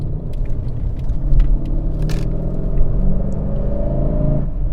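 A Mercedes CLS550 twin-turbo engine turns over and settles into a steady, deep idle close by, with a low rumbling hum and a slight rise in revs near the end.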